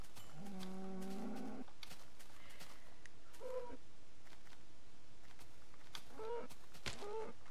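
A Minecraft cow gives a drawn-out low moo, and short animal calls follow a few times against quiet background game sound.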